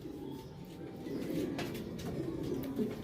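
Racing pigeons coo softly in a loft, low rolling calls that repeat close by over a faint background hum, with no talking.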